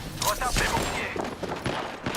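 Rapid automatic gunfire from the Apex Legends video game crackles in dense bursts close by, mixed with game effects and a voice.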